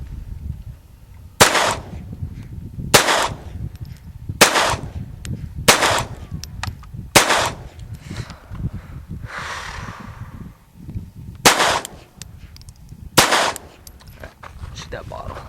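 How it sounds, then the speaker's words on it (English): A Walther P22 pistol fires Winchester Super X 36 grain copper-plated hollow points outdoors, with seven sharp single shots spaced a second or two apart and faint background noise between them. "Doing the Walther Winchester Super X, 36 grain, copper plated hollow point."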